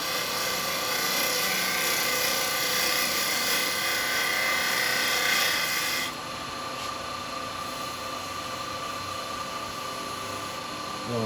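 A wood lathe spins a large segmented, lidded sweet jar while a carbide cutter hollows it, giving a steady loud broadband whir and hiss that drops to a quieter, thinner tone about two-thirds through as the cut eases.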